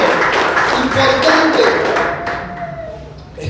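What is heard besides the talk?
congregation applauding in church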